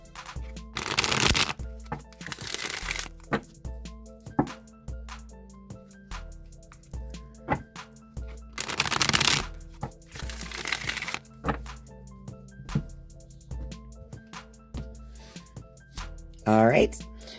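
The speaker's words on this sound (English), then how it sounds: "I'm just going to shuffle the Rider-Waite deck a few times" A Rider-Waite tarot deck is shuffled by hand in a few loud, close riffling bursts separated by quieter stretches, with a soft musical backing playing throughout.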